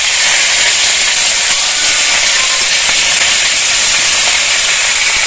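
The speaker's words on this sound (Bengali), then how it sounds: "চাপা দিয়ে দিয়ে হালকা আঁচে এইভাবে উল্টিয়ে উল্টিয়ে খানিকক্ষণ ভেজে নেব।" Jackfruit patties wrapped in leaves fry in mustard oil over a low flame, a steady loud hiss of frying that holds unbroken and close throughout, with no talking.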